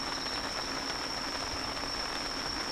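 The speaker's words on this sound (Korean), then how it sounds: "비가 엄청 내려요. 지금 들리죠?" Heavy rain pours onto a tent at night during a camping trip, a dense, steady hiss of drops drumming on fabric with no break, close and even throughout.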